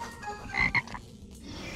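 A cartoon toad croaks twice in quick succession, short raspy croaks standing alone against a quiet background.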